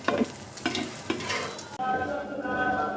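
Beaten eggs frying as a large omelette in oil in a pan, a steady close sizzle with a few scraping strokes early on, then a smoother continuous frying hiss.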